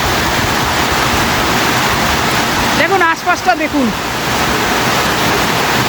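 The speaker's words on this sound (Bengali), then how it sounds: "দেখুন কী জোরে বৃষ্টি হচ্ছে" Heavy rain pours steadily onto a shed roof at Ujjaleswar Mahadev temple in Odisha, a loud constant broadband wash throughout, with people speaking briefly over it near the middle.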